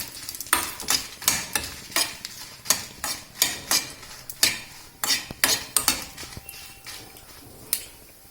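Curry leaves are dry-fried in a pan for Andhra-style curry leaf powder, each quick repeated scrape of the spoon making a crisp, clattery rustle. The strokes come in steady bursts over a faint sizzle, with no voices.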